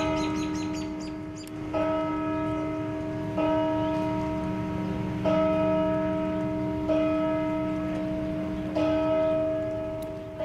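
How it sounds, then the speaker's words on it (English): A church bell tolls slowly for the funeral of a World War II soldier, about six resonant strikes spaced roughly every two seconds, each ringing on and overlapping the next, with faint bird chirps in the background. "The tolls of that bell honor a soldier who died in World War II."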